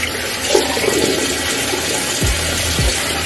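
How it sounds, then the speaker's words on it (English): Cool water running and splashing at a sink as skin is wetted for a skincare routine, a loud continuous rush with a couple of deeper splashes near the end. "I'm gonna go ahead and wet my skin with cool water."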